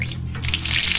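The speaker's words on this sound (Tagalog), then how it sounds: "Tingnan natin mayroon pa tubig ang gripo dito para mahinaw tayo" Water runs from an outdoor tap in a brief, close, steady splashing stream.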